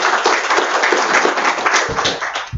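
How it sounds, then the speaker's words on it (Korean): Applause from an audience at a public forum welcoming a guest speaker to the stage, a dense, steady wash of many hands clapping close by for the whole stretch. "큰 박수로 맞이해 주시기 바랍니다"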